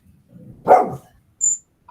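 A single small dog gives one short, sharp bark up close, followed by a brief high yip, in an otherwise quiet room.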